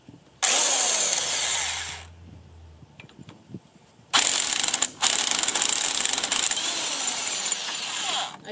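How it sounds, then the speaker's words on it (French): An impact wrench hammers at a large driveshaft nut during a bus-to-camper conversion, two loud close rattling bursts with a quiet gap between them, the second burst longer and briefly interrupted. "on va compter vraiment sur la clé à choc pour réussir à dévisser ce gros écrou de cardan"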